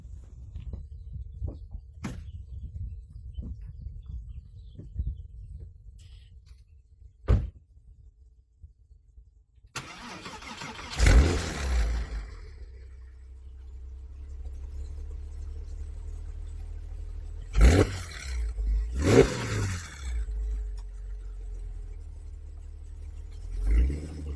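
After a quiet stretch with faint knocks, a 2004 Porsche 996 Targa engine starts up and settles into a low, steady rumble, with a few louder revs and bumps as it drives off and back.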